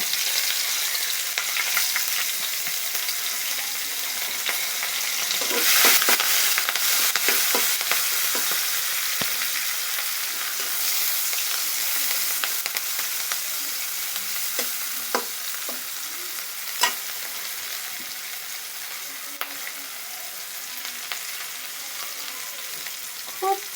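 Onion and green chilies frying in hot oil for a garlic-free eggplant curry, a continuous crackling sizzle with scattered stirring clicks and scrapes, fairly loud and close.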